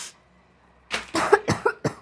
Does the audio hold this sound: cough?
yes